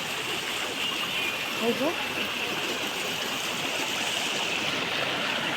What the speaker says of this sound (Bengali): এগুলো পাহাড়ি জল না, পাহাড় থেকে নামছে।